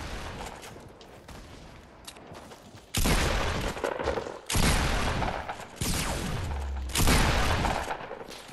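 Rapid bursts of gunfire from a console shooter game, several loud sharp volleys spaced a second or so apart, close and dominant over a quieter game background.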